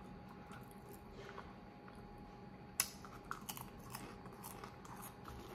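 Dry, crunchy rice cakes being bitten and chewed without any drink, giving soft, faint crunches and a few sharper bites close up in a quiet room.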